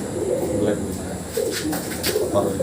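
A pigeon coos softly in a few low, murmuring phrases, close by, over a steady background hiss.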